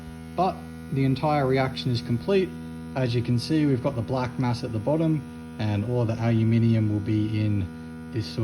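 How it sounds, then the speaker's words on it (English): A vacuum pump runs steadily for a small vacuum filter during vape battery black mass extraction, its constant mains-like hum sitting beneath continuous close talking throughout. "I've got the vacuum pump going for the little vacuum filter"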